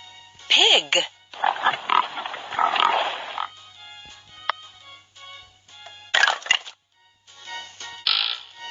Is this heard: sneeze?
no